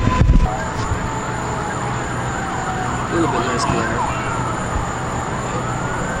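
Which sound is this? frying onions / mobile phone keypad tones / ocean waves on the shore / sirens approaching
sirens approaching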